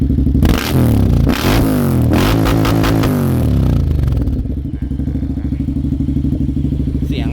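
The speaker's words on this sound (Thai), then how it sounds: "เดี๋ยวฟังเสียงเบิ้ลครับผม" A 2017 Honda X-ADV 750 scooter engine is revved hard several times, rising and falling in sharp bursts, then drops back to a steady idling rumble.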